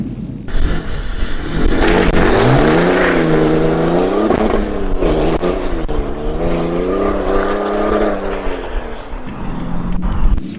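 A car launches hard and accelerates with traction control cutting in, the engine note climbing and wavering in loud, continuous revs close by for about nine seconds before easing off.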